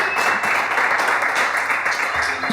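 A live comedy audience applauds Big Guns Joe, a steady wash of many hands clapping close and loud, running unbroken from start to finish with no talk over it.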